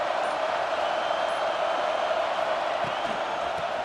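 Stadium crowd noise in EA Sports College Football 26 during a game: a steady, broad roar from a large crowd, constant and fairly loud without distinct peaks.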